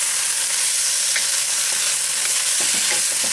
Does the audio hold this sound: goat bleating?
no